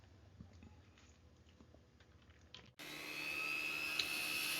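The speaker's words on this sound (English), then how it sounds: "So in this case, I was using a cylinder burr to do some of the sharp edges" A rotary tool fitted with a cylinder burr grinding edges on a metal die in a small studio: after quiet rustling it kicks in abruptly with a loud, steady high-pitched whine and rasp, close by and unbroken.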